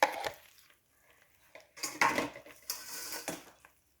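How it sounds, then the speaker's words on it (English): Sweet potato pudding batter stirred with coconut flakes in a bowl, giving a few scraping, clattering utensil strokes against the dish in short bursts with quiet gaps between. "Mix it all up again."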